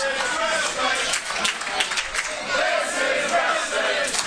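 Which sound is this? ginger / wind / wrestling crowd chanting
wrestling crowd chanting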